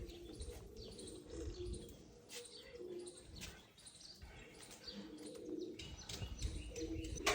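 Pigeons coo softly and repeatedly near a rooftop loft, their low calls overlapping with scattered chirps and flutters amid steady background noise.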